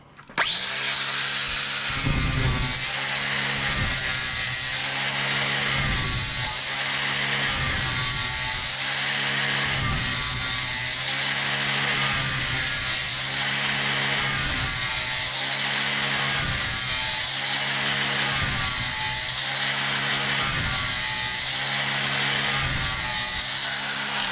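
Angle grinder sharpening a lawn mower blade, a loud, continuous high whine with rhythmic pulsing as the disc follows the blade's contour, close and alone.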